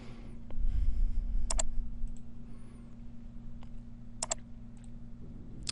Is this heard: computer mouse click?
yes